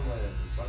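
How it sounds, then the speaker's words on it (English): Hair clippers buzz steadily in the background at a barbershop during a haircut, a close, continuous electric hum under nearby talk. "if you hear buzzing in the background, it's because I'm waiting for my haircut."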